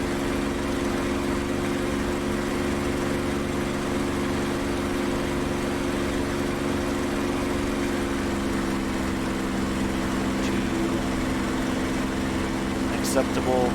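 A P-51 propeller engine runs steadily in the DCS flight simulator, a constant loud droning hum with a low tonal rumble that holds evenly throughout.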